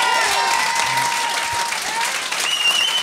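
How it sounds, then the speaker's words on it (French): Loud, dense applause from a live audience at a French-language comedy show, steady clapping filling the whole stretch, with faint voices or whistles mixed in. "merci d'applaudir"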